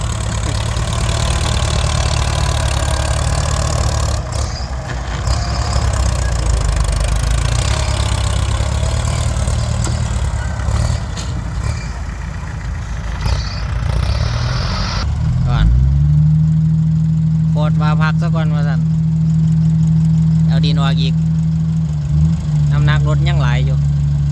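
A tractor engine runs loudly nearby, chugging roughly at first, then settling into a heavier, steady drone.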